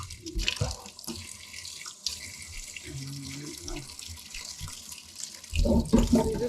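Tap water runs steadily into a kitchen sink as fresh turmeric and ginger roots are rinsed for a drink, a continuous close splashing that swells louder near the end.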